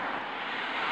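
Airplane flying overhead, a steady, broad engine roar held evenly for under a second with no voices.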